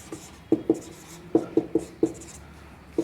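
A hand writes on a board in short, distinct strokes, about eight quick scratches in uneven rhythm, close and clear with no talking.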